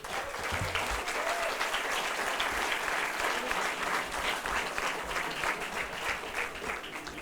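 An audience at a conference gives sustained, steady applause for the students, a dense wash of many hands clapping at an even level throughout.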